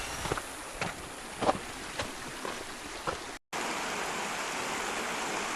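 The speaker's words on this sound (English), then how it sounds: "Reached the Colorado River." Broadband rushing water of the Colorado River deep in the Grand Canyon, a steady close wash with a few brief splashy peaks, briefly cut out for a moment before resuming.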